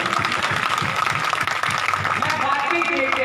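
A congregation applauds loudly to welcome the Holy Spirit, a dense, continuous clatter of many hands that stays strong throughout, with a voice talking over it.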